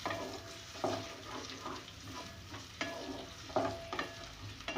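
Onions fry in a pan with whole garam masala, browning to golden while a spoon stirs and scrapes them, giving a soft sizzle with periodic stirring knocks.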